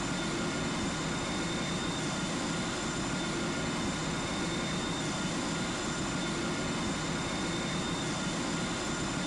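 The steady, loud roar of a Virgin Atlantic A350-1000's engines during a takeoff roll in the GeoFS flight simulator game, holding a constant broadband rumble with a faint high whine and no change throughout.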